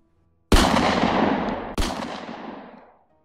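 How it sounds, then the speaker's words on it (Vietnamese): Two sharp gunshots about a second apart, loud and close, each with a long echoing decay. "Tiếng súng nổ vang lên chát chúa giữa bãi container bỏ hoang"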